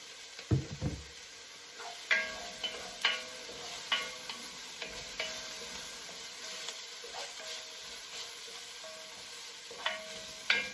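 Green peppers frying in oil in a cast iron pan over low gas: a soft sizzle broken by repeated clinks and scrapes of stirring at irregular intervals.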